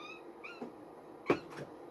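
A house cat giving a few short meows, faint at first and then one louder, closer call followed by a softer one, in a quiet room.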